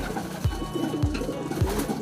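Gordon breed racing pigeon cooing close by, three evenly spaced low coos about half a second apart, each with a short rising throaty burble, over light background hum.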